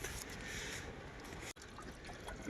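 Water is poured from a container into a cooking pot set over a wood fire outdoors. A faint, steady splashing stream runs throughout, with a brief break midway.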